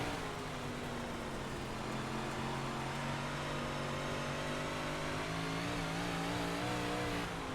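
A 358 modified race car engine at Cedar Lake in iRacing roars steadily throughout, a loud continuous drone with shifting revs and no talk over it.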